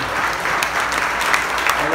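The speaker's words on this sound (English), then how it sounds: "a round of applause for" Audience clapping at a Smokies GT charity event for cystic fibrosis, a steady dense round of applause that holds throughout, with some voices mixed in underneath.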